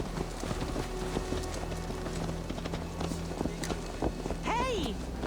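Horse hooves clip-clopping in the Assassin's Creed Valhalla video game: a soft, steady run of hoof beats under ambient wind and game background noise, with voices speaking throughout.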